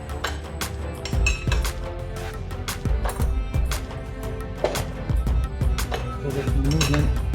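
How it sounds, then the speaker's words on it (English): A 24mm wrench tightens a lock nut on a Predator 212 engine during a torque converter install, producing repeated sharp metallic clinks and clanks at close range in an irregular rhythm. "This is a 24mm wrench I'm using."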